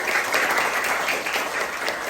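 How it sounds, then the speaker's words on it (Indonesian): A seated audience at a school teacher-training session applauds together after a cheerful clap-along song, a dense, even burst of clapping that fills the short moment without talk. "Tepuk tangan buat kita semua"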